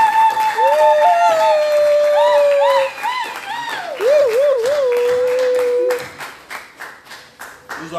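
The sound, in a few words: audience applause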